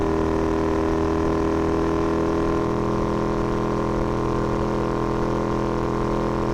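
Husqvarna Norden 901 motorcycle ridden at low revs along a rural county road in Park County, a steady mid-pitched engine drone with wind rush, no speech.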